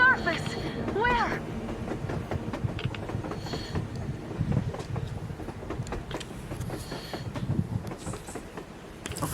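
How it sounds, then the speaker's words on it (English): A train rumbles and clatters past on the surface in the video game Metro Exodus, a rolling mechanical din mixed with wind while a character shouts excitedly over it. "A train! A damn train on the surface!"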